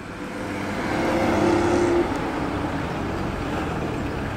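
A classic Triumph 2000 drives away from a car show, its engine a steady, moderate hum that swells slightly as it pulls off and then holds at a constant level.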